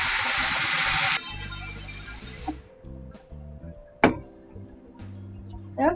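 A Laura Star steam iron hisses loudly as it steams a cloth mask, a strong burst that thins after a second and fades by about two and a half seconds, followed by a few faint clicks and knocks.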